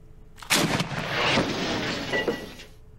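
Tank cannon fire in a Dwarf Fortress-style tank simulator game, a sharp blast followed by a long rolling, rumbling boom and debris-like crackle that fills the clip, loud and close with no talk.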